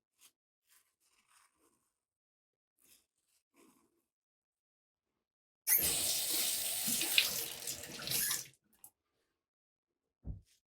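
Shaving lather for a safety razor shave being whipped up, a wet, frothy churning burst of about three seconds, fairly close and alone, following a quiet stretch of faint clicks.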